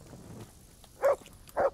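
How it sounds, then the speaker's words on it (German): Two short barks from a dog in Kingdom Come: Deliverance, each a sharp single yelp separated by about half a second, fairly close, following a faint low murmur. "Hündchen, komm mal her."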